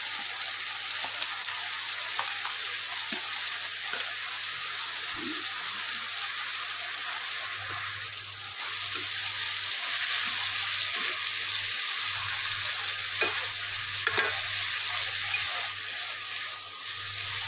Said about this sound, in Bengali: এবার এর মধ্যে চিংড়ি মাছগুলো দিয়ে দেব।